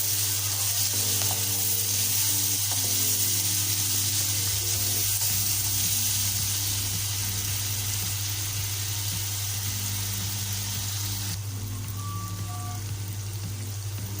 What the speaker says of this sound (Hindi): अब इसके अंदर मैं अदरक लहसुन और हरी मिर्च का पेस्ट शामिल कर दूँगी, तकरीबन ये 2 टेबल स्पून है। और इसको अच्छी तरह से हमने फ्राई कर लेना है।